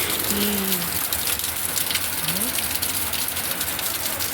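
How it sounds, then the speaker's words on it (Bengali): Heavy rain pours during a thunderstorm, a dense, continuous close hiss that never lets up, with a couple of faint tonal whines early on. "বিদ্যুৎ চমকাচ্ছে আবার, তো বৃষ্টি"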